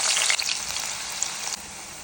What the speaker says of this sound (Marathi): फागीळ तळच्या तर नारियल तेल तापू दवरला.